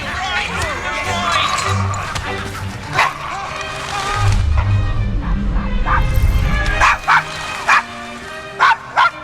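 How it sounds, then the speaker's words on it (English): A dog barks and yaps repeatedly at close range in the video game Assassin's Creed Syndicate, with short whimpering yips mixed in over in-game voices and background sound. "Is your dog quite all right?"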